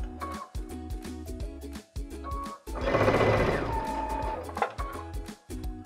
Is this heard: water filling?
no